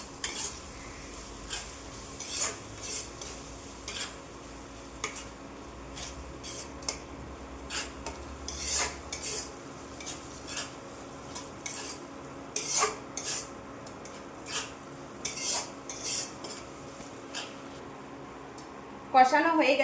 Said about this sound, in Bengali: সব মশলাগুলো কষিয়ে নেব।